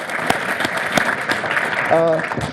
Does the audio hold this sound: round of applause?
yes